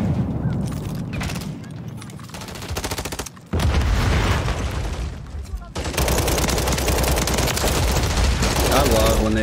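Loud, dense gunfire from Modern Warfare 3 multiplayer on the Das Haus map with an uzi loadout: rapid overlapping bursts and automatic fire run almost continuously, with a brief dip near the middle and a voice talking under the shooting.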